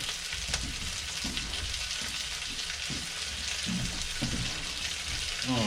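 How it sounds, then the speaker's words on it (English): Potatoes frying in a pan over a wood fire in a cabin fireplace, a steady close sizzle and crackle with occasional soft stirring scrapes. "Potatoes frying."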